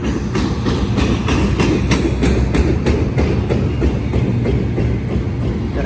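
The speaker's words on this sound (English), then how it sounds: "Got a flat wheel on that car." A freight train car rolls past with a heavy rumble and a regular, repeating thump from one flat wheel, like a steady clack about every third of a second.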